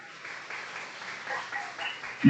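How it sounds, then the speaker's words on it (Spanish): A church congregation applauds, a diffuse, moderate patter of many hands clapping that swells slightly toward the end. "le rindamos un fuerte aplauso al Señor"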